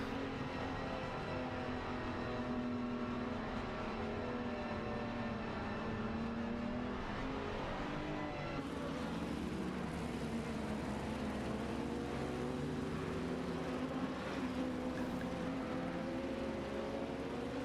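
A GT2 race car's engine in a racing video game at Monza, a steady, droning whine with rising and falling pitch as the car accelerates, shifts and revs through corners, heard alone without talk.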